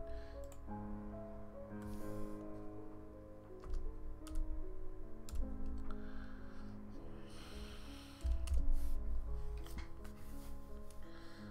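Close, steady clicking of keys on a computer keyboard in quick irregular bursts, with faint low music-like tones underneath.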